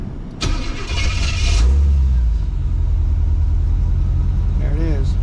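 A 1984 Corvette engine cranks with a loud burst of starter noise, catches, and settles into a steady, close, low rumble that holds for several seconds without clear revving.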